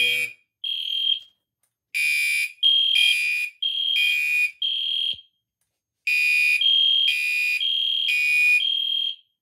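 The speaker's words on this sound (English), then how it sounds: "EST Genesis horn strobe, and the EST Genesis analog speaker strobe, alert speaker strobe" Several EST Genesis fire alarm horn strobes and speaker strobes sound together in loud, synchronized bursts, pausing briefly, then resuming in a steady pulsing pattern.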